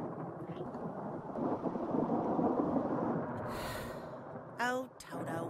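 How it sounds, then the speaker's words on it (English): A stormy outdoor scene where rumbling thunder and a steady wash of rain build and swell, then a brief sharp burst breaks through near the end. "There's a storm brewing."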